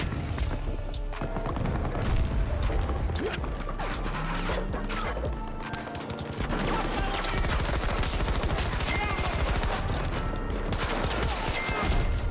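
Dense bursts of video game gunfire from Battlefield 2042, rapid cracks and mechanical clatter of weapons and reloads piling up continuously at close range.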